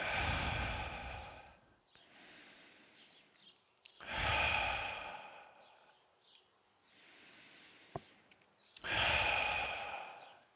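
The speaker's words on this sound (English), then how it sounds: "A few more breaths." Slow, deep meditative breathing, with three long loud exhales or sighs alternating with quieter inhales, close and steady, no talking.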